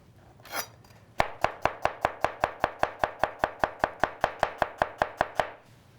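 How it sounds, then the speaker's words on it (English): A knife coarsely chopping red onion on a board, about twenty quick even chops in a steady rhythm, close and crisp, after a short brushing sound at the start. "I can chop it coarsely. A little piece of red onion or shallots or regular onion."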